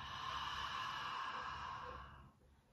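A slow, steady exhale through the back of the throat during a yoga breathing exercise, soft and breathy, held for about two seconds before it tapers off into quiet.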